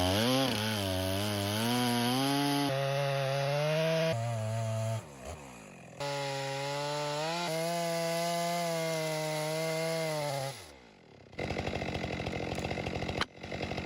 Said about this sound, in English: In that peaceful atmosphere, the sound of chainsaws echoed, signaling the arrival of the lumbermen